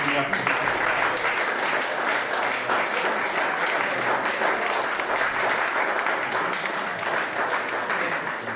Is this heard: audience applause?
yes